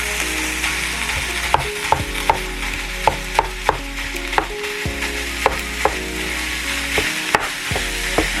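Two pounds of ground beef fry in a hot pan on medium heat, a constant close sizzle punctuated by sharp regular taps and scrapes of a utensil breaking up the meat, no voices.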